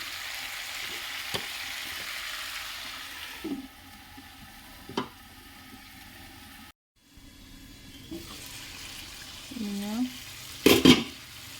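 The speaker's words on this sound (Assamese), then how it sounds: "মাংসখিনি ধুনীয়াকৈ ভজা হৈছে" Pieces of local chicken fry in a pan with a soft, steady sizzle, broken by a few sharp clinks and scrapes of a spoon against the pan and a short silent gap partway through.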